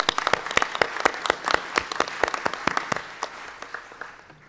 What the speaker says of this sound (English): we certainly want to applaud you and thank you for your participation